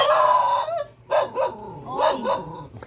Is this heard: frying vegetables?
no